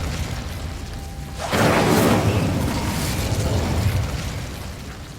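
A fire spell is cast in Hogwarts Legacy, giving a sudden loud whooshing burst that swells into a sustained roaring rush of flame for several seconds before easing slightly.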